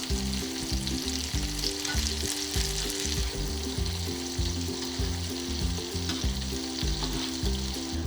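Shiso tsukune, Japanese chicken-style meatballs, frying in a pan over medium-low heat, a steady close hiss of sizzling oil with faint bubbling, continuous and without speech.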